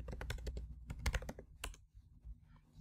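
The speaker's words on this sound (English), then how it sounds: "then type java jdk 10 download" Keys tapped on a Mac keyboard in quick bursts, crisp close clicks in an irregular rhythm that pause briefly near the end, with no voices.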